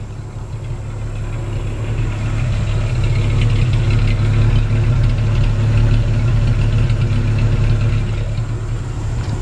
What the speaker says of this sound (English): Let me let you take a listen at this engine.